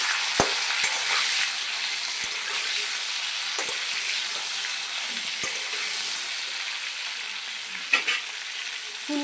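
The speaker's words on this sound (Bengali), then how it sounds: "এই যে ফুলকপিগুলো একটু লাল করে ভেজে নেবো" Boiled cauliflower pieces fry in hot oil with an even, continuous sizzle. A few sharp clicks of a utensil against the pan break it, and no one speaks.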